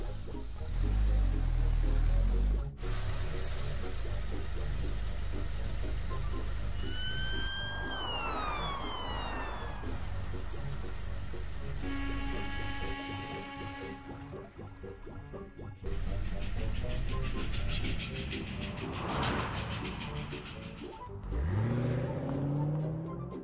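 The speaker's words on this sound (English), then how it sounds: "Family jump into the car and ride to the airport" In a Peppa Pig cartoon, the family car drives to the airport. Engine noise runs under a string of cartoon effects, with rising and falling siren-like sweeps and watery drips, and no voices heard.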